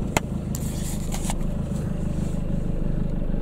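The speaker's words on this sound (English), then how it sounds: "Start the engine." A Nissan X-Trail diesel engine, with a P0235 boost pressure sensor fault, cranks and catches, then settles into a loud, steady idle rumble heard up close with a few light clicks at the start.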